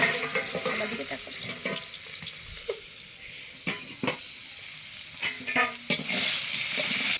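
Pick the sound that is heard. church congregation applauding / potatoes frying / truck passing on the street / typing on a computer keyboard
potatoes frying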